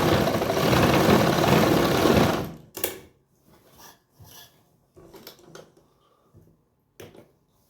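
A sewing machine runs steadily while stitching a salwar belt, loud and continuous for a couple of seconds before stopping, followed by quieter handling clicks and rustles of the fabric.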